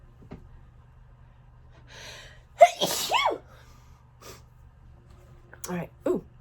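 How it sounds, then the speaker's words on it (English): A single sharp human sneeze bursts out loud and close, preceded by a short inhaled gasp, followed by a couple of softer snorts or breaths, over a low steady hum. "I have a sneeze coming."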